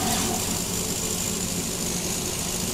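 Swaraj combine harvester engine running in Farming Simulator 22, a steady, continuous droning engine hum held at constant revs throughout, with no talking over it.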